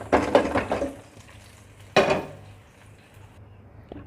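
Thick haleem stirred in a pot, two bursts of scraping spoon-against-pot clatter and sloshing close by, separated by a quiet pause, with no talk.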